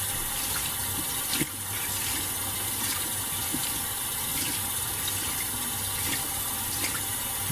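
A qiviut wool garment is rinsed flat under a running tap. Water flows steadily and close by, with occasional splashes and squishing.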